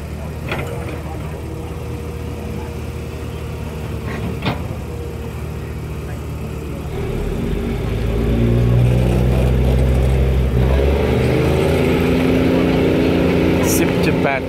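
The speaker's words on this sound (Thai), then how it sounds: "นี่เรือและรถแมคโครครับกำลังขุดใหญ่เลย" Excavator engine digging at a dismantled railway station site, a mechanical drone that revs up louder partway through and stays heavy, with occasional clanks.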